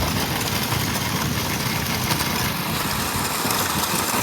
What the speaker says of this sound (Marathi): गाडीचा आवाज बघा.